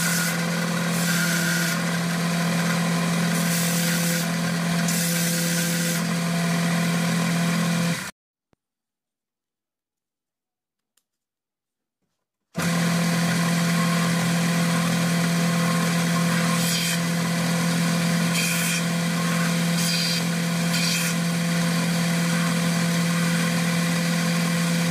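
A belt sander runs steadily with a constant droning hum while sanding the edges of a handmade keychain, cutting out abruptly to silence for a few seconds before resuming at the same level.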